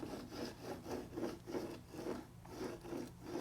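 Razer DeathAdder Elite mouse on fresh replacement skates sliding back and forth over a worn mouse pad, a soft rhythmic scratchy rubbing with about seven quick strokes, close and steady.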